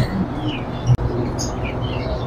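Common pied cockatiels in a bird shop give short chirps and tweets over a busy room murmur, with a brief click partway through.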